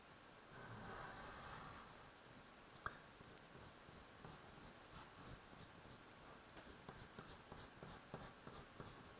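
Pen strokes scratch across paper while sketching a diagram, a steady run of short, quiet scrapes that turns into a quicker rhythmic pattern of separate strokes toward the end.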